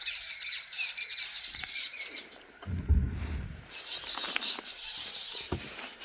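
Birds and peacocks give alarm calls in a forest jungle safari in Rajaji National Park, Mohand Range, alerted by a nearby raptor: scattered squawks and sharp calls over steady insect hiss, with a low rumble midway.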